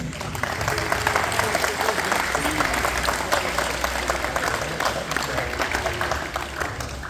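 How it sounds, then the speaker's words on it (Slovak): Sustained applause from a crowd at a school dodgeball championship awards ceremony in a hall in Detva, steady and dense throughout with faint voices mixed in. "Veľký potlesk"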